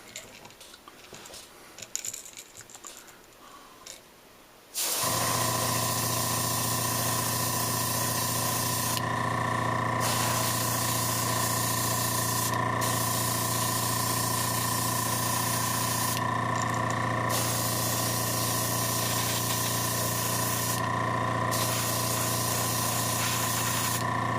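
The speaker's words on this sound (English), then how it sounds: "Alright, let's get spraying." An airbrush sprays paint onto a custom jerkbait fishing lure in a David Fritts style, a loud, steady close-up hiss that starts after a few quieter seconds and continues with brief breaks.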